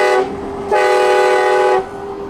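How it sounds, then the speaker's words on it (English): A Nathan train horn mounted on a pickup truck blasts loudly and close in two long, steady chord-like blows with a short gap between them. "I'm gonna pull over real quick and hit the train horn, but I mean, it's super loud"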